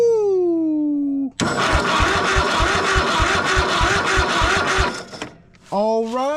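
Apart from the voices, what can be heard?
Craftsman riding mower engine starting and running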